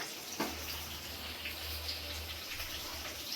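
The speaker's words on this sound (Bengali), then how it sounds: "আর এই দেখো আমার ভাত ফুটে এসছে।" A pot of rice boils on a stove in a village kitchen, giving off a faint, steady bubbling and watery hiss over a low background hum.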